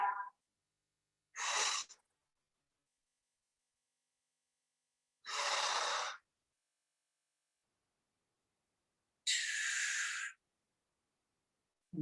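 Three separate big exhales during a back flexibility exercise, each a breathy rush of air lasting about a second, close and quiet, with silence between them.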